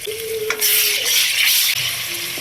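Chopped onions dropped into half a cup of hot oil for chicken ghiya gosht, a sudden burst of bright sizzling that rises and crackles steadily, with a faint tonal hum and a brief dip before frying resumes; no speech.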